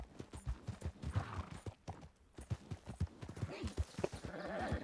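Horse hooves walking in Red Dead Redemption 2 make a steady clip-clop of soft, evenly paced footfalls throughout, with a voice talking over parts of it.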